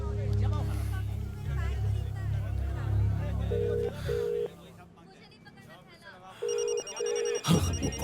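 A phone rings in short paired electronic bursts, twice, over background voices and a low rumble.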